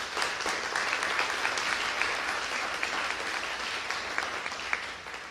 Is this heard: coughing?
no